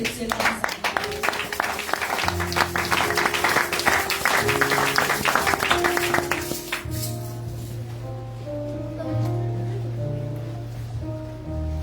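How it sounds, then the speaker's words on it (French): Church congregation applauding and cheering during a French-language sermon, a dense burst of clapping for several seconds before it thins out, with organ or keyboard tones sustaining underneath. "Est-ce qu'on peut acclamer?"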